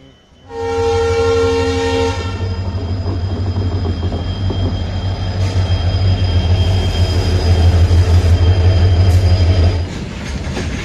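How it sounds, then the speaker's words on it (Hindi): A goods train runs past near Londa Junction on the line toward Goa, with a loud, steady rumble of wagons and wheels. A horn sounds briefly at the start, and high squealing tones run through the pass. "और ये गुड्स ट्रेन जा रही है अभी अपने गोवा की तरफ"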